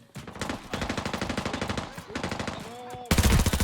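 Rapid automatic gunfire in the video game Arena Breakout rattles almost nonstop, with a voice talking over it and a louder, denser burst of shots at the end.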